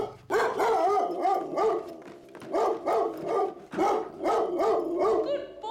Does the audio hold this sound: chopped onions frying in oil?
no